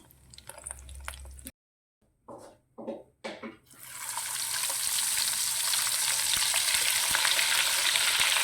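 Beef cutlets in oil: after a few brief knocks and a short silent gap, a loud, continuous sizzling rises and holds steady to the end.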